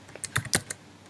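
A handful of keystrokes on a computer keyboard while coding Java in Eclipse, irregular clicks spaced over about a second, close and clear with no talk.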